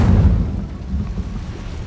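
An Incendio fire spell cast in Hogwarts Legacy lets out a low, rushing burst of flame. It starts loud and decays into a rumbling roar over about two seconds, with no voices.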